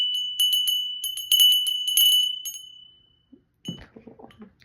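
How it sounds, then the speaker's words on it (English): A bell is struck several times in quick succession, giving bright ringing tones that decay over a couple of seconds and then fade out; soft handling noises follow. "I'm gonna ring a bell."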